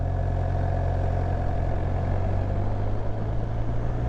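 Motorcycle engine pulling steadily in second gear while riding, a loud continuous low drone with a fairly even tone and a slight rise toward the end, no voices.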